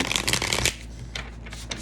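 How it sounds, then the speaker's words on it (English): A deck of tarot cards is shuffled close up, with quick riffling flutters in short bursts and a brief pause between them, crisp and alone. "I'm just gonna shuffle a couple more times for you guys"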